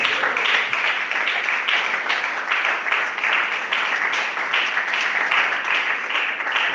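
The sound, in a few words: congregation applauding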